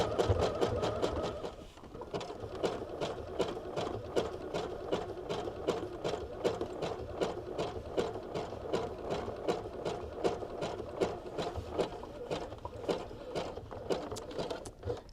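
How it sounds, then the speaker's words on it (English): A sewing machine stitching a zigzag on fabric for a fabric bowl, a fast, even mechanical rattle that runs steadily and close after a brief change in pace near the start. "we're still going to be doing that same zigzag stitch"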